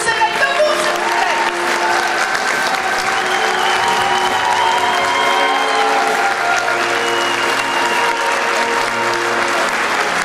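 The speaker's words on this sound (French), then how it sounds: "S'il vous plaît, remerciez-les, applaudissez-les debout, s'il vous plaît." A large crowd at a 2013 regional assembly in Quebec applauds steadily, a dense, continuous wash of clapping with tonal music or voices running beneath it and no break across the stretch.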